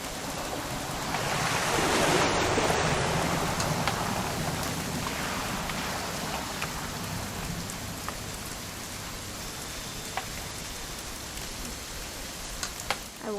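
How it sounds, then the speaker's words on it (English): Steady rain pours down in the video game What Remains of Edith Finch during a weekend hunting trip, a dense continuous hiss with wind that swells early and then holds even, with a few sharper drips near the end. "It's gonna rain the whole weekend"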